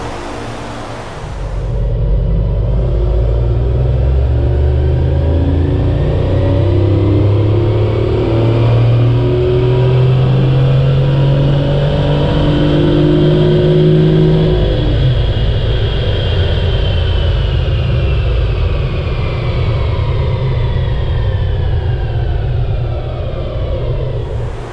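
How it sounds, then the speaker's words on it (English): A tuned BMW i8 revs hard on a dyno, its engine and loud exhaust rising in a long, continuous pull that climbs in pitch for several seconds and then holds a sustained roar, close and dominant with no talking. "check out the BMW i8 on the dyno"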